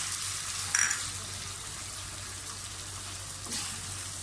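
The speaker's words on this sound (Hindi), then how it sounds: "प्याज फ्राई हो गए, साथ ही इसमें जो हमने चिकन लिया बोनलेस वो डाल दें।" Chopped onions and boneless chicken sizzle in a pan while cooking moong dal khichdi, a steady soft frying hiss that swells in two brief louder bursts.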